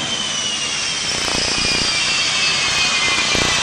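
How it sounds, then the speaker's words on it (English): The Super Shockwave, a jet-powered Chevy truck, at the 1998 Sussex Air Show, its jet engines giving a loud, sustained roar with a high whine and a rising rumble, with no talking. "The Super Shockwave is the world's most powerful Chevy"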